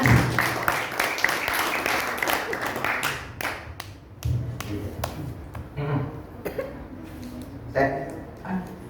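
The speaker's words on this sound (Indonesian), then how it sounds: "Tepuk tangan, tepuk tangan." A crowd at a quiz contest in a prayer room gives uneven clapping, loud at first then breaking into scattered claps, mixed with voices and laughter.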